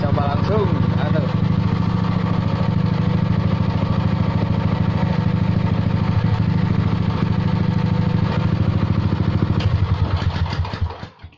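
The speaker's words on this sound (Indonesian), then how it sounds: "Bagaimana kita kalau pakai knalpot Prolinear ini suaranya gimana?" Small water pump engine fitted with a Prolinear racing exhaust runs loud and steady with a rapid chugging rumble like a motorcycle, then cuts out near the end.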